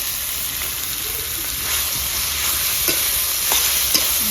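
Boiled cauliflower stalks frying with mustard paste in a pan, giving a dense, constant sizzling hiss up close, with occasional light scrapes and taps as the mixture is stirred.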